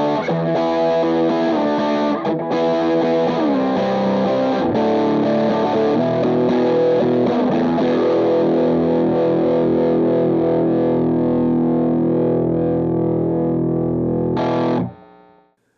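Electric guitar through stacked Venuram TSV 808, Gladio and JHS Superbolt overdrive captures at fairly high gain, playing sustained distorted chords and notes that ring out steadily before being cut off, with no talking.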